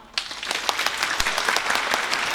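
An audience at a joint graduation ceremony for five Anglican schools breaks into brief, dense clapping that rises quickly and carries on at a steady moderate level, with no speech over it.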